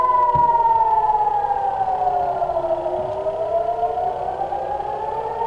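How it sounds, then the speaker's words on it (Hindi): A wailing air-raid siren near Israel's Lebanon border slowly winds down in pitch, sustained and fairly loud, with a second tone overlapping, no voices. "आपसे बात करते समय हमने सायरन की आवाज सुनी थी और अब आप आवाज सुनिए"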